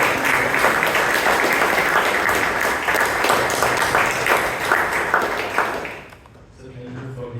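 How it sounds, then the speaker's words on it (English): An audience at a Toastmasters club meeting in Bangalore bursts into steady, dense applause lasting about six seconds before fading quickly into room quiet. "A big round of applause to Chandrasekhar."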